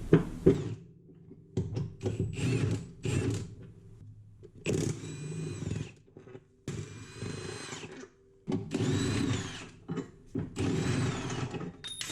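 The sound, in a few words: power tool backing out 19 mm subframe bolts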